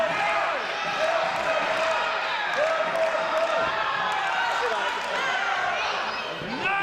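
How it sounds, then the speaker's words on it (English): Wrestling crowd at a no-disqualification match cheers and roars continuously, a dense wash of voices and whistles with a commentator talking over it throughout. "Now it's Dragon firing this crowd up."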